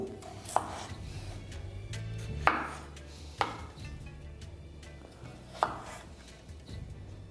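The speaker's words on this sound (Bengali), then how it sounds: "আর পটলটা কাটা হয়ে গেলে আমি এখানে কেটে নিচ্ছি আলু" A knife cuts potatoes into pieces on a board, giving four sharp, distinct chops at uneven intervals against a quiet kitchen background.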